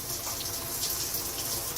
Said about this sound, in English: when water is introduced, it kind of withers down the lather, which is normal